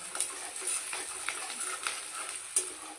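Onions fry in oil in a wok for chow mein, giving a soft, steady sizzle broken by a few scraping stirs. The sound is close and moderately quiet, with no talking.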